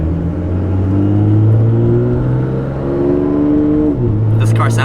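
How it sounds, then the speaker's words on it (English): A performance car engine revs close by, with steady, throaty droning tones that climb and then drop sharply near the end. Voices talk over it. "Car sounds so much better than ours."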